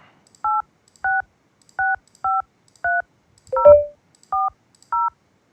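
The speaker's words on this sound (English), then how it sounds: "I call my phone number." Eight short DTMF keypad tones dialed in a steady rhythm on a DINSTAR IP PBX phone call, clear and close, with a brief thump or handling noise near the end and no talking.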